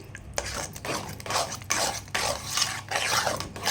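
Organic jaggery mixture, dark in colour, stirred in a pot: repeated scraping strokes of a spoon against the metal, steady and close, with a soft wet rub between strokes and no talk.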